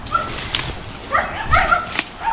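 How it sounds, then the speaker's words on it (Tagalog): Several short dog barks and yips ring out at moderate distance, spaced irregularly over faint background noise. "Bakit marami mga aso dyan?"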